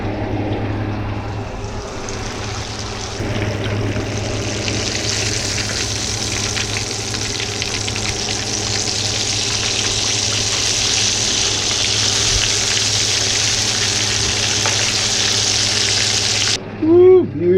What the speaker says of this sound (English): we're gonna fry this and fry them too